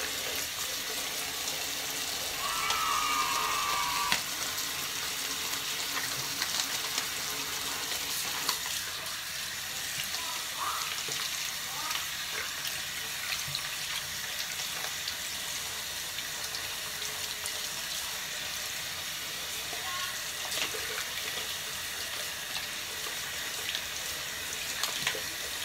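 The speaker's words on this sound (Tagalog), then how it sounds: "Pwedeng hugasan yung pera dito." Banknotes are washed under a running tap, and water streams steadily from the faucet for a long stretch. It stays at a fairly even level with small splashy variations and no talking.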